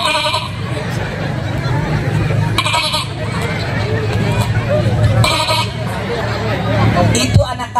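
A man mimics a baby goat's bleat in a few short nasal bursts during a comic sermon at a village Maulid Nabi gathering, with steady crowd chatter and murmuring underneath.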